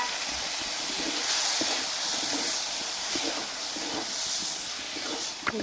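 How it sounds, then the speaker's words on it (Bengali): Boiled chana dal hits a hot pan of cooked spice masala, giving a loud, steady steamy hiss that fills the whole stretch with faint scraping underneath, close and without talk. "এবারে এর মধ্যে ছোলা সিদ্ধ করে দিয়েছিলাম,"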